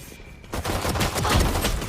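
Rapid bursts of gunfire from a video game break out after a quiet start, sustained and loud, with repeated shots overlapping.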